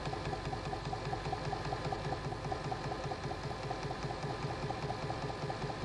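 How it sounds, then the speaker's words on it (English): A Janome Nouveau sewing machine sews a seam with a fast, even mechanical whirr and steady needle chatter, running continuously and close without any speech. "Then sew, reversing both ends to secure the seam."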